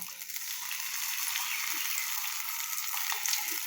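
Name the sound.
fish frying lightly in oil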